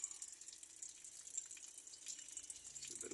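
A rainwater tap runs as it is being closed, a faint steady hiss of flowing water with light splashy texture, quiet and continuous with no voices.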